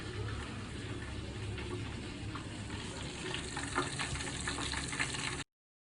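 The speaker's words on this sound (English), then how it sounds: "So we'll just fry these mushrooms and a couple more potatoes in case the first batch got soggy." Mushrooms and potatoes frying in hot oil for fish and chips, a steady loud sizzle and bubbling that runs evenly throughout, with a few sharper crackles and pops near the end.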